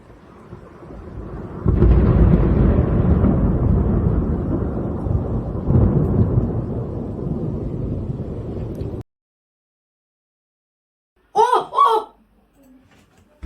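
A strong thunderstorm over Bordeaux produces a long, deep rumble of thunder that swells and slowly fades over several seconds, then goes quiet. A brief voice follows.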